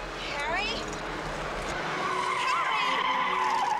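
Car tires skidding and squealing in a tense film scene, a long rising screech over engine noise lasting several seconds, with shouting voices over it.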